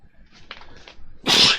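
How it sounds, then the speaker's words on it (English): A single loud, sharp sneeze bursts out near the end, preceded by a few quiet breathy sounds. "As I sneeze"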